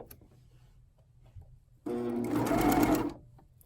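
A sewing machine stitching a neckband onto an inside-out shirt runs in one steady buzzing burst of about a second, quiet handling sounds before it and a brief hum trailing after.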